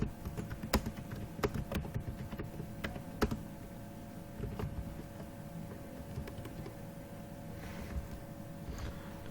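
Typing on a computer keyboard, with scattered close key clicks and taps in irregular short runs over a quiet background hum.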